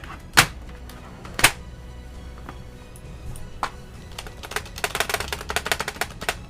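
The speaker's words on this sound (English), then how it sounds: "That's me moving the keyboard from lap to desk." Computer keyboard shifted from a lap onto a desk, two sharp clacks early on, then a scatter of lighter knocks and rattles building into a busy burst of taps near the end.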